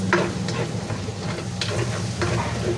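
Margarine or butter melting in a frying pan gives off a steady, close sizzle with soft crackles, and quiet stirring clicks run through it with no one talking.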